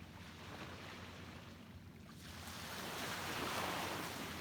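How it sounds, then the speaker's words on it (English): Ocean waves wash onto a beach under a stormy gray sea, a broad steady roar of surf that swells gently louder toward the end, with some wind noise. "soak in the sounds of the waves"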